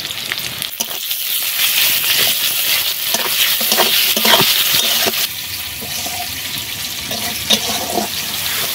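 Chopped tomato with salt fries in a pan, giving a loud, continuous hissing sizzle broken by scraping stirs and a few clinks, with no talking.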